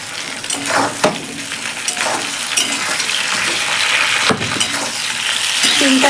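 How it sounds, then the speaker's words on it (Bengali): Cut broad beans fry with onion and garlic in a pan, giving a continuous close sizzle with scraping stirs and a few sharp clinks of the spoon against the metal. "শিমটা পেঁয়াজের সাথে আর একটু ভাজা হবে।"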